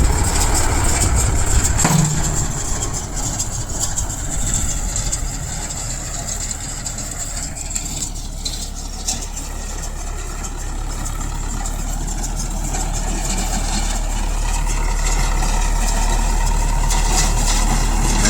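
A Mahindra 575 Yuvo Tech Plus tractor, 47 HP, runs steadily in farmland with a Thattu baler, its engine a continuous low rumble and idle that holds at an even, fairly loud level throughout.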